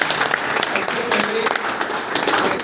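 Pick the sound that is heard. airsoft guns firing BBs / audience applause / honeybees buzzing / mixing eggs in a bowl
audience applause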